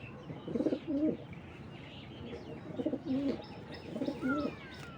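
Racing pigeons coo in three clear low throaty bursts spaced across a few seconds, close by, with faint chirps and light background noise between them and no talk.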